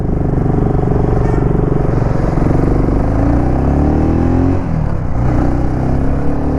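A 2025 BSA Gold Star 650 motorcycle rides along with a steady engine hum that rises in pitch as it accelerates, heard up close, with no talking.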